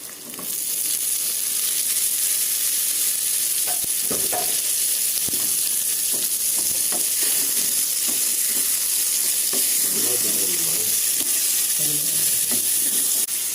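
Tomatoes hit a pan of golden-brown fried onions for tomato rice, giving a loud, steady sizzle and hiss that runs throughout, with occasional stirring scrapes and clatters.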